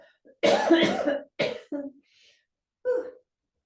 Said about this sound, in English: And I'm coughing, which normally I don't like